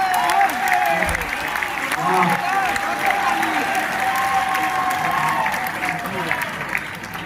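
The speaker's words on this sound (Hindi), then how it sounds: "ये आपकी ये तालियां अलामत थी कि अमरीश ने क्या पढ़ा और आपने क्या सुना।" An audience at the Kashi Sahitya Kala Mahotsav literary festival in Banaras applauds steadily, a dense wash of clapping that holds for several seconds and tapers slightly at the end, with a voice speaking over it.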